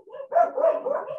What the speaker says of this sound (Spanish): estoy en mi casa y están los perros